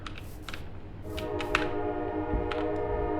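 Minecraft train sounds: a tonal, horn-like hum rises and holds under scattered clicking and tapping noises, fairly quiet and close throughout a few seconds.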